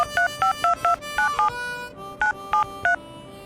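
Touch-tone keypad dialing on an old brick mobile phone, about eight short paired DTMF beeps in a quick uneven sequence, loud and close, with a faint steady tone underneath and no talking.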